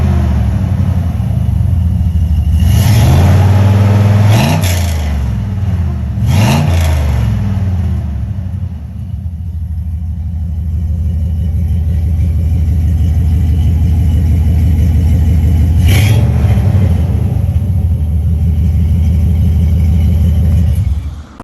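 Chevy 6.0 truck with a Flowmaster Super 10 muffler, turn-down exit and no catalytic converters, rumbling loud and deep at idle with several sharp revs early on and another later, close by.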